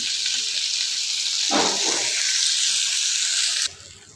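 Vallarai leaves and ridge gourd peel with salt sauté in a hot pan, a steady close sizzle with a brief stirring shuffle partway through, then the frying hiss drops off abruptly near the end.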